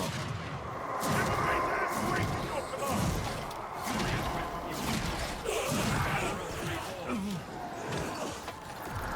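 A Celestial Barrage artillery attack in Age of Sigmar: Realms of Ruin lands as a steady series of heavy booming impacts. The thuds and crashes repeat through a dense battle din, with no speech.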